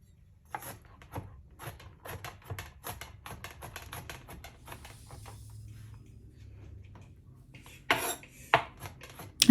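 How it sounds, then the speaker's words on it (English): A knife rapidly minces garlic on a cutting board, producing quick, crisp, fairly regular taps that pause briefly and then resume with a few louder knocks near the end. "I decided to mince the garlic with my knife today."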